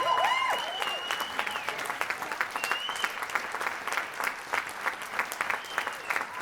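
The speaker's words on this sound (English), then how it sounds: "Let's give a round of applause." Audience applause at a local arts live performance: steady, dense clapping from a crowd that holds at an even level for several seconds and tapers only slightly toward the end.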